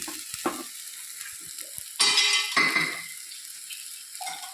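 Chopped brinjal sizzles in a hot pan while a spoon scrapes and stirs it, with bursts of frying hiss and clinks between quieter moments.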